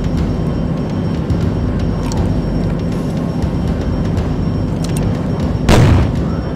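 A flashbang grenade detonates with one sharp boom during a room-clearing assault in the video game SWAT 3, set against a constant loud background of game ambience.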